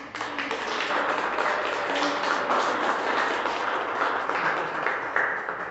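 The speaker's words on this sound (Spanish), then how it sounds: "Un aplauso." A congregation applauds during a church service, continuous mid-level clapping that runs steadily throughout with a few sharper individual claps standing out.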